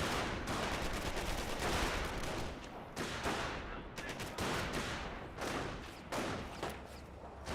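Heavy gunfire hits a squad in the World War II strategy game Company of Heroes, dense overlapping rifle and machine-gun bursts, loud and close, coming in repeated volleys with short gaps between.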